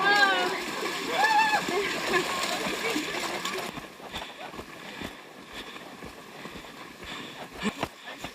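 Trail race runners in the Leatherman's Loop splash through water, giving a loud continuous churning and sloshing that fades into lighter, scattered splashes and footfalls while participants talk and shout nearby.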